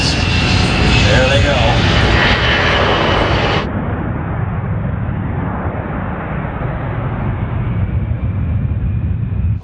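Loud steady engine roar heard from inside a helicopter cabin, a dense broadband drone that shifts partway through and continues unbroken.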